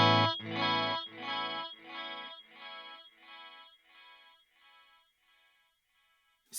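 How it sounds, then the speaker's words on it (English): An ambient synth tone run through the Nasty Delay plugin by Variety of Sound, with a chord struck repeatedly and echoing in rhythmic repeats that fade gradually over several seconds to near silence. "I use the nasty delay by Variety of Sound. This sounds really great"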